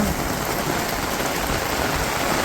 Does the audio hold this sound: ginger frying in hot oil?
no